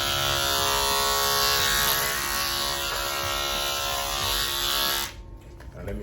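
An Oster 76 electric hair clipper hums steadily at close range, a dense buzzing drone that carries for about five seconds before cutting off abruptly, leaving brief faint handling noise.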